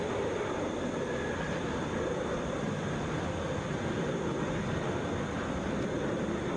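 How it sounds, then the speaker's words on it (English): A Delta Boeing 717 airliner arriving at Atlanta's international airport gives off a broad, steady distant roar that holds evenly throughout with no voices over it. "Coming in from Tulsa, this is Delta 1201, Boeing 717."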